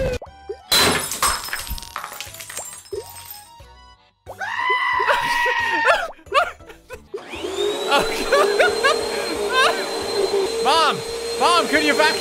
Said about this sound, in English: Mom, can you vacuum later?